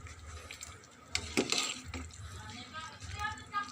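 Pork sinigang broth boiling in a pot, a close, uneven bubbling and sloshing of liquid with a faint voice in the background.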